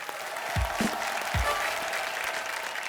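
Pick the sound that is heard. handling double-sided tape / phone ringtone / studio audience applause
studio audience applause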